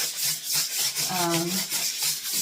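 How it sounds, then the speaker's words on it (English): Sandpaper rubbing off old stuck-on gasket residue around a bathroom sink on a countertop: short, close, rhythmic scratchy strokes repeat several times, with a brief squeaky tone in the middle. "Definitely want to make sure we get the rest of this gasket that's stuck on. Get that sanded away."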